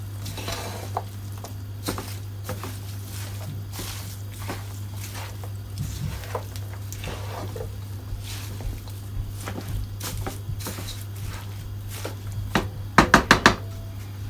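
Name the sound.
stirring calaloo and saltfish in a pot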